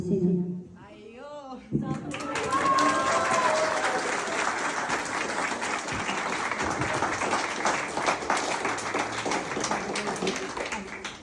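A crowd of guests claps loudly at a civil wedding registration ceremony. Brief talk comes first, then sustained, dense applause for about nine seconds.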